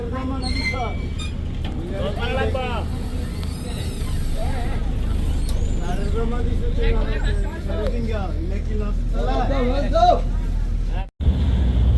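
A passenger launch on a river in Bangladesh pulls away from a stop, its low engine rumble running steadily beneath a busy babble of passengers talking.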